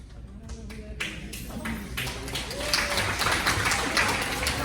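Audience at a community meeting about saving Bellevue stands and applauds, scattered claps building into fuller, denser applause, with talk audible underneath.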